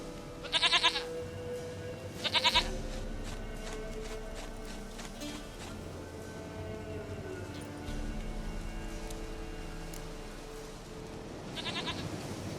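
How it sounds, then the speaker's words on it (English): Goat bleats in The Witcher 3 video game: two loud quavering cries near the start and another near the end, over steady game ambience and soft background music. "Goat of mine, dearest,"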